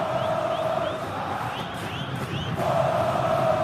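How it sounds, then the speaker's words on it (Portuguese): Coritiba supporters in a packed stadium at a 2011 Copa do Brasil match against Vasco, a steady roaring crowd with chanting and whoops that swells again near the end. "Olha a torcida coxa branca aí, vivendo a sua empolgação."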